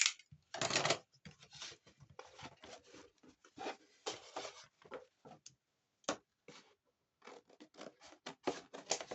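Scissors with double-sided tape stuck to the blades cutting paper or card for a handmade Christmas album, a series of short close snips and rasping cuts in irregular bursts separated by quiet pauses.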